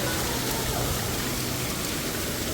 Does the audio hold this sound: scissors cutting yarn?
no